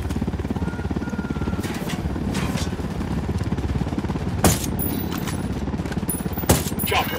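A helicopter in the Ghost Recon Wildlands video game beats steadily with a close, pulsing rotor throb, while a few sharp gunshots crack over it.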